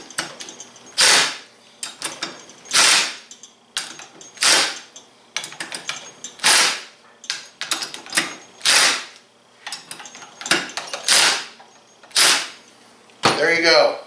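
A torque wrench being snapped on clutch bolts of a Polaris RZR XP 1000, heard as a series of sharp, close mechanical clicks and ratcheting bursts in an uneven rhythm.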